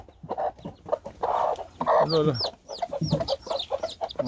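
An Araucana hen clucks repeatedly in short, near bursts while being herded into a pen, with a few rising chick-like peeps and a person calling to her over the clucking.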